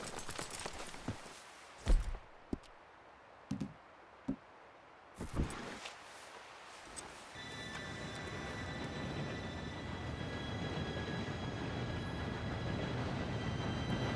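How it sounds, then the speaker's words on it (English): A few sharp clanks and thuds ring out, then a steady rumbling roar builds and holds as a train arrives and draws close in Red Dead Redemption 2. "Train should be here any minute now"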